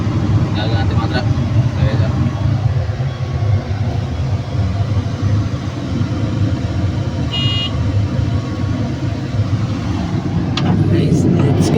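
Trucks being loaded onto a vessel for Semirara, engines running as a steady loud low rumble throughout, with a brief horn-like toot midway and voices talking over the noise.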